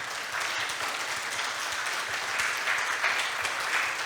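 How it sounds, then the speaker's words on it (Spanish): A church congregation claps in praise, a steady dense round of applause that holds evenly for several seconds without voices over it. "Dale un aplauso de alabanza al Señor."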